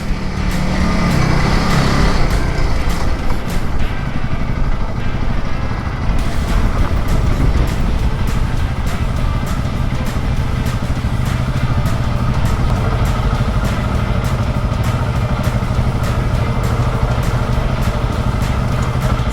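Motorbike ridden through thick, soft beach sand, a loud continuous engine roar with steady throttle and a slight change in pitch early on, close and alone without talk.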